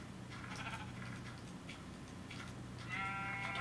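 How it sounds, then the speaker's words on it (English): Sheep bleat in the Minecraft video game, several short wavering calls at a low level, with a clearer bleat near the end, quiet and without speech. "Stupid sheep."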